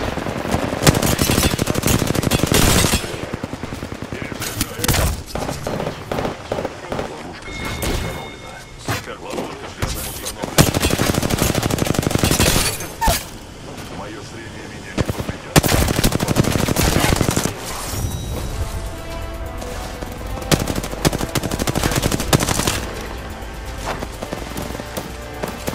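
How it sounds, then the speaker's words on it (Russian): Enemy gunfire in Apex Legends, dense rapid automatic bursts and single shots crackling almost continuously at close range, mixed with game effects and someone talking over the action. "Ну вот, враги стреляют по мне."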